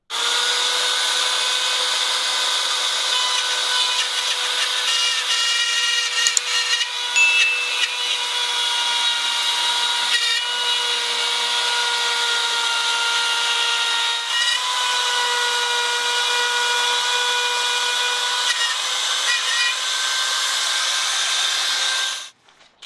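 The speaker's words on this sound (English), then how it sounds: "To cut the long straight line, I gently clamped a 4-foot level to the board." A long straight cut through DensShield tile backer board guided by a clamped four-foot level, a loud continuous grinding, whining tool noise held close and steady for over twenty seconds with slight pitch wavering, ending abruptly.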